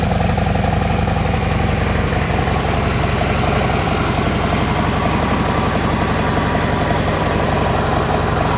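A 2024 Harley-Davidson Road Glide motorcycle idles loud and close, its engine keeping a steady, even, lumpy throb throughout with no talk.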